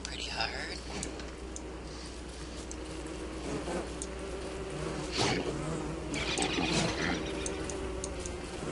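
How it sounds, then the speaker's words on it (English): Bees buzz and swarm in an attack in the video game Don't Starve, a steady droning hum with scattered bursts of game effects, while a voice talks over it throughout. "Those bees hit pretty hard."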